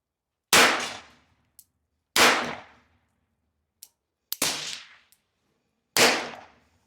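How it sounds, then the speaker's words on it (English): A revolver fired double action at targets outdoors, four sharp loud reports spaced roughly a second or two apart, each with a quick decaying tail and faint small clicks between shots. "we're just going to fire it on double action"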